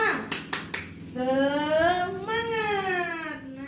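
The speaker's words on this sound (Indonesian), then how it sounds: "Kita tepuk semangat dulu ya. 1 kali tepuk semangat." A class of students at a school lesson claps together in a brief rhythmic spirit clap, four quick sharp claps up close, followed by a group chanting loudly in unison.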